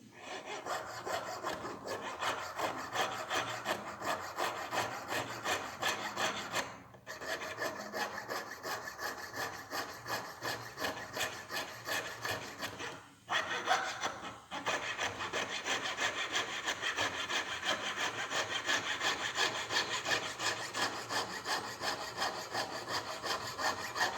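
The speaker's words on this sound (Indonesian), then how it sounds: "Sekarang kita gergaji sedikit supaya lebih rapat lagi." Continuous rhythmic back-and-forth hand sawing of metal while making a mokume gane ring, brisk and raspy, with two short pauses before the strokes resume at a steady pace.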